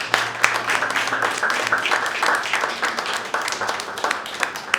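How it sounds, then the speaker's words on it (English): A roomful of people gives a mother a round of applause at a community roast session, a dense, sustained wash of clapping with scattered voices mixed in, loud and steady throughout. "Mama, can you stand up again in here? Can we give her a round of applause again?"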